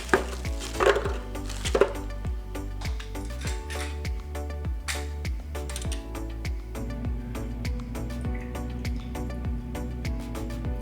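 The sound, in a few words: frozen watermelon chunks added to a blender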